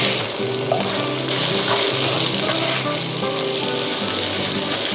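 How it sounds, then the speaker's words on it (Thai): Shiitake mushrooms stir-fried in a hot pan, a loud steady sizzle filling the whole stretch with a few faint scraping stirs underneath and no speech. "เราก็จะใส่เห็ดหอมนะคะ ผัดให้เข้ากันค่ะ"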